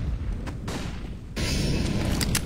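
A flashbang grenade goes off in the shooter game CS:GO: one sudden, loud broadband burst that holds as a bright, steady roar with faint ringing for the rest of the moment, with no voices.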